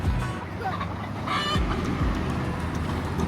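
Chickens cluck and call close by at a chicken museum stop during a Florida Keys trip, a busy steady flock sound over a low background din, with no talk.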